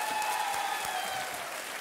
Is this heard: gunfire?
no